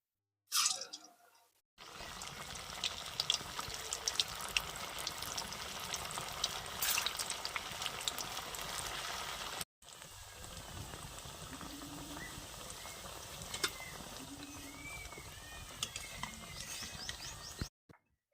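Small sweets of semolina and milk powder fry in hot oil, a dense continuous crackling bubble that starts abruptly, breaks off briefly midway, then resumes at a steady moderate level.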